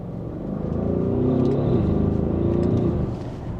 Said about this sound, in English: So acceleration, baby accelerations on a new car